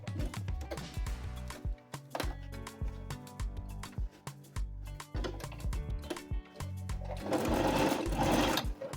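A sewing machine stitches fabric in quick, uneven bursts, with stops between runs and a louder, denser stretch near the end, close and clear with no voices.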